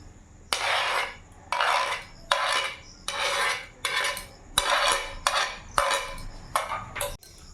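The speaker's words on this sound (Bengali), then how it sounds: "এবার সবগুলোকে ভালো করে এইভাবে মাখিয়ে নেব" Grated bottle gourd, chopped tomato and batter being mixed by hand in a bowl, giving about nine rhythmic wet scraping, squelching strokes, close and steady with no talking.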